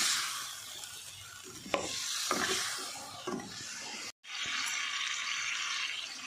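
Tomato and three chillies frying in a pan, with a steady, bright sizzle and a few soft stirring scrapes, close up, broken by a brief drop to silence near the end before the sizzle resumes.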